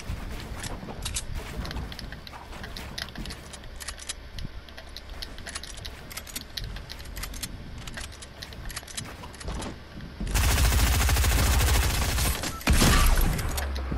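Shotgun gunfire in Fortnite, a rapid series of sharp cracking blasts and clatter, followed by a loud, dense burst of noise in the last few seconds.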